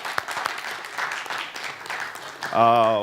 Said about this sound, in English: Come on, give yourself a round of applause.